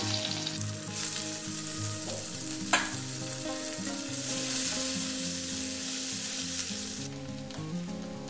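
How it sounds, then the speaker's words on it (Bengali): Onion and cumin seeds fry in oil for a cauliflower dish, a close, dense sizzle that surges loudly after the first second, with a sharp utensil knock partway through, before easing down near the end; no one speaks. "এবার আমি এই তেলের মধ্যে দিয়ে দিচ্ছি অল্প জিরা ফোড়ন দিয়ে দিচ্ছি। আর দিয়ে দেবো পেঁয়াজ।"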